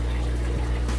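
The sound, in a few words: aquarium pump water flow noise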